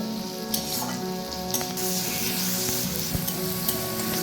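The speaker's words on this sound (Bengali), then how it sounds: "টমেটোটাকেও খুব অল্প একটু ভেজে নেব।" Tomato and onion frying in oil, a steady crackling sizzle with a few sharp pops and stirring knocks scattered through, moderately loud and uninterrupted by talk.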